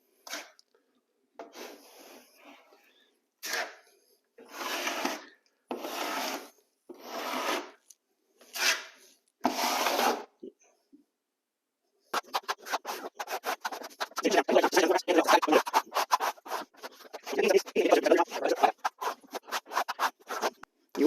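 A trowel's nose scrapes floor filler into nail holes in a bathroom floor, first in a series of short separated strokes with pauses, then in a denser run of quick rasping scrapes, close and fairly quiet with no talking.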